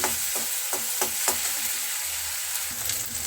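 Ground salt, turmeric, chili powder and cumin powder frying in a pan for egg tarka, a steady close sizzle with a few light stirring knocks early on, no voices.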